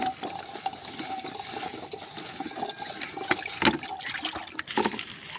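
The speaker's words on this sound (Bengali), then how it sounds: "তুমি জল ছানতেছো" A young child splashes and plays in water, giving soft scattered sloshes, trickles and splashes close by, with a few louder splashes near the end.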